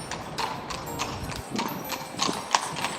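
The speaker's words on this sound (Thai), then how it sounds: "รถม้านะฮะ" Hooves of a horse-drawn carriage clip-clop steadily on a street in Dresden, a regular mid-distance rhythm over soft city ambience.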